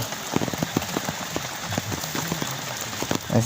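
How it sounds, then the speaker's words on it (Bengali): Heavy rain pours steadily over a village, a dense hiss with scattered drops pattering on a nearby surface throughout. "বৃষ্টি প্রচুর বৃষ্টি হয়েছে"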